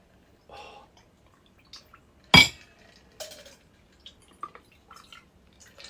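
Boulevardier cocktail poured into a glass over a large ice cube, with quiet drips, a bright clink near the middle and a few smaller glassy taps and trickles afterward, close and fairly soft.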